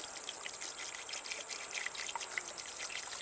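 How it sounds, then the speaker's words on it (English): Sugar water poured into a beehive feeder, a faint, close trickling and dribbling with soft splashes and drips, continuous over a few seconds with no talking. "So I'm putting the sugar water in."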